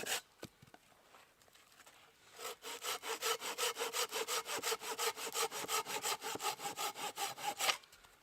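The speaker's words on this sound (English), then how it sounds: "the silky saws, they cut on the back stroke" A Silky pruning saw cutting wood in a pine forest, a couple of tentative scrapes followed by a steady run of about twenty rhythmic close-up strokes, loud and alone with no talking.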